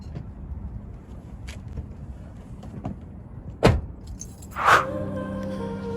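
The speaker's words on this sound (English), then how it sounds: "when the car is on, I can fold in the mirrors and fold them out." Power-folding side mirrors on an R34 Nissan Skyline give two short motor whirs with soft thunks against a quiet idling background, close to the car, with a few light clicks in between.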